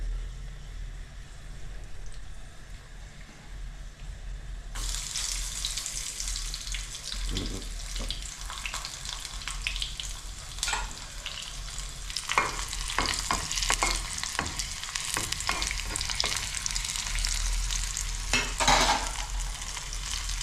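Chicken frying in a pan makes a continuous sizzle that grows louder after a few seconds, broken by scrapes and clinks of stirring, with no one talking.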